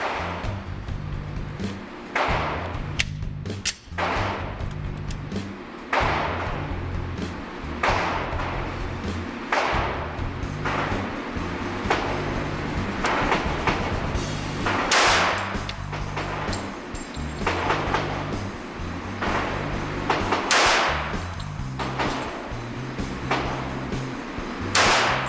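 A SIG P220 .45 double-action pistol fired at a shooting range: sharp, loud reports with many shots spaced at a fairly steady pace over about 25 seconds and no talking.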